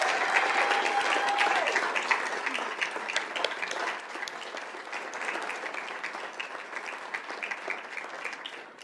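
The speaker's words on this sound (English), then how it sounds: "If you all would stand so we can give you a big round of applause" Sustained round of applause from a seated crowd at a school district governing board meeting honoring state champion athletes, dense and steady, tapering slightly toward the end.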